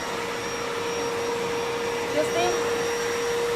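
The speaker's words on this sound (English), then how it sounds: "We turn on the steam first, and we start the vacuum." Sippon BJC2021 steam vacuum cleaner running with steady motor whine and a constant tone, steam mode engaged, a brief voice speaking over the hum.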